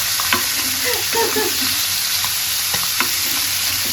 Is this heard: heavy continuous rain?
no